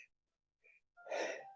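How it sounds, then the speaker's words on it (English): A single sneeze bursts out after a few short breathy intakes, close and fairly loud, with no talk around it. "excuse me, I'm about to sneeze."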